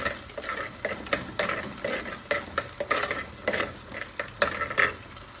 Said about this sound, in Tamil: இஞ்சி ரெண்டையும் சேர்த்து வதக்கிக்கோங்க.